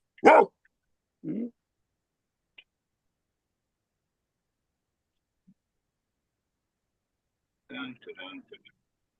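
A few sharp dog barks in short bursts separated by silence, followed by a cluster of quicker yaps near the end.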